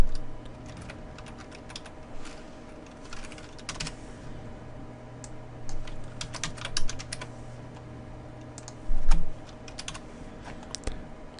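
Computer keyboard typing as code is copied and pasted, a steady run of close, quick key clicks with occasional louder bursts and a faint constant hum underneath, no voices.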